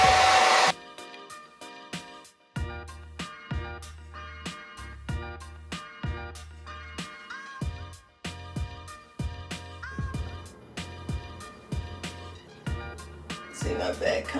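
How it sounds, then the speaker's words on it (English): A hair dryer blows on a U-part wig in repeated bursts, switching on and off with short gaps, loud and close, with a brief voice near the start. "I'm blow drying the U part."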